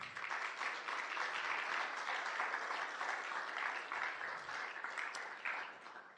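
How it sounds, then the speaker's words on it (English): Audience applauding town hall staff at a Korean War era veterans recognition ceremony in South Windsor, a steady, dense wash of many hands clapping that holds evenly for several seconds and tapers slightly at the end. "Let's give them a round of applause."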